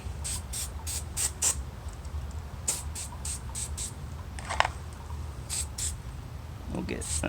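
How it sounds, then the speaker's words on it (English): An aerosol cleaner sprays onto an RC truck, a Slash 4x4, in a series of short hissing bursts. They come in quick, rhythmic clusters up close over low background noise, with a brief clink partway through. "it's fine just to spray this on everything"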